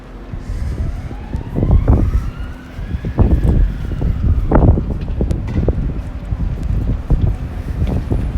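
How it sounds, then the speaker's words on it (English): An ambulance siren wails along Oxford high street, its rising and falling tone moving past at moderate distance over traffic rumble and gusty wind noise on the microphone. "There's an ambulance"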